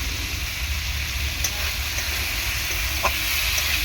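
Spice powder frying in a pan for an amudi fish curry with raw tomato, a continuous loud sizzle with steady hiss and a few brief scraping stirs, no talking.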